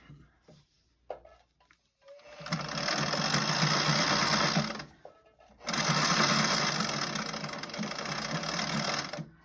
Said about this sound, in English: When you get to the corner, you want to bury your needle, lift your presser foot and turn.